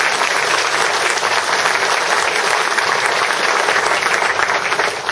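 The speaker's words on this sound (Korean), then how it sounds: "힘찬 박수 보내주시기 바랍니다." Loud, dense applause from an assembled crowd at a Korean trade union leaders' rally, sustained and even throughout after a handshake between two union heads, with no talk over it.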